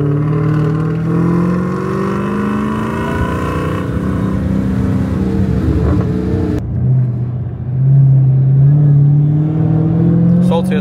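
SRT Hellcat with a 717 hp 6.2 V8 Hemi rolling onto the Nürburgring Nordschleife, its engine droning steadily nearby with pitch drifting up and down as it moves off, then settling into a deeper, louder hum.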